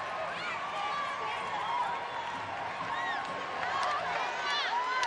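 A crowd at a 2006 NCAA women's gymnastics meet, Georgia at Florida, cheers and whoops steadily, calling for a perfect 10 in a big arena, with high whistles rising through the sustained roar.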